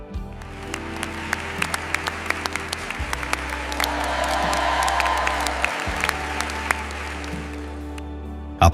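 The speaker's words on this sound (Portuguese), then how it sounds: "Aplausos ecoam por toda a igreja." Applause rings out inside a church: sustained clapping from a crowd, reverberant and steady, rising slightly in the middle before fading, with a low hum underneath.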